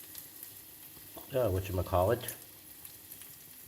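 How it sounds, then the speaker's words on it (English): Beef and vegetable soup broth boils in a lidded pot with a steady low bubbling hiss throughout, and a voice briefly speaks over it midway. "with the lid on there, it's boiling along pretty good."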